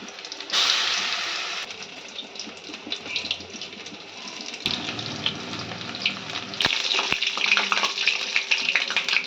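Cauliflower pieces coated with nigella seeds fry in a pan with a steady close sizzle, broken by brief clatters and knocks of handling partway through.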